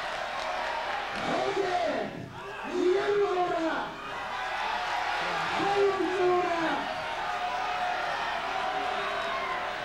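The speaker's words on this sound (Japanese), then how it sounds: "これやっぱブーイングなんですよね。" A wrestling arena crowd boos and jeers during a barbed wire ladder death match brawl, a dense roar of voices that swells and falls in waves for about ten seconds.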